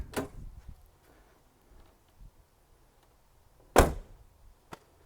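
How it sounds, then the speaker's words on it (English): The back door of a 1977 Chevrolet Impala 9C1 thumps shut close by, a second solid slam follows a few seconds later, and light clicks and handling noises fill the quiet gaps. "now watch how nicely this door closes"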